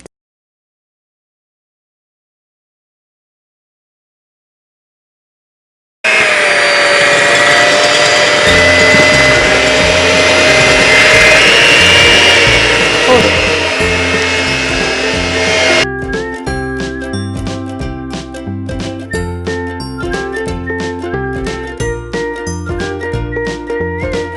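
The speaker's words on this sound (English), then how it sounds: "we're gonna use an electrical whisk. So we're gonna start by whisking our egg white." After several seconds of silence, an electric whisk starts beating egg whites for three-ingredient cloud bread, giving a loud, steady motor whir whose texture later turns choppier.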